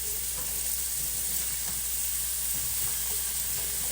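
Chopped onion, celery and other vegetables saute in a pan for a fricassee sauce, a steady close sizzle and hiss with soft stirring sounds running through it.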